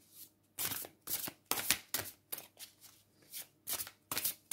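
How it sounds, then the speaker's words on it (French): Oracle cards being shuffled by hand before a draw, a run of soft papery riffling bursts in a steady rhythm, close and quiet with no talking. "je vais vous tirer une carte de l'oracle de l'absolu pour chaque groupe"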